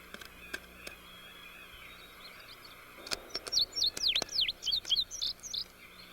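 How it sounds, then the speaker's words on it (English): Small songbirds chirp in quick, high, repeated tweets, fairly close, after a few scattered clicks over a quiet outdoor background. "Songbirds often flock to backyard bird feeders for a handout."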